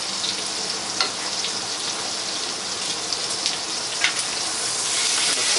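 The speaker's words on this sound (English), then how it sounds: "And to flip the steak, you want that nice caramelization flavor." Steak searing in butter in a hot pan, a steady broadband sizzle with small pops and crackles throughout, close and continuous with no talking.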